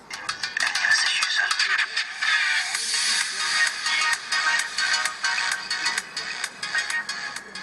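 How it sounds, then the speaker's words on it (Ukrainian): Music plays through the small built-in speaker of a Samsung GT-S5230 phone, thin and tinny with a steady beat, loud and close from start to finish. "Давайте перевіримо все ж таки, як звучить динамік на цьому телефоні."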